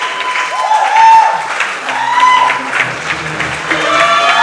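A wrestling crowd at a NEBULA championship match applauds and cheers the new champion, a loud, sustained roar of clapping and shouts under a commentator's voice.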